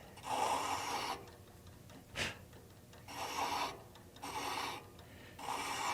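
A hand tool cutting threads into an acrylic workpiece makes a rhythmic rasping scrape. Several bursts about a second long repeat in a steady back-and-forth pattern, up close and moderately loud, with one sharp tick between strokes.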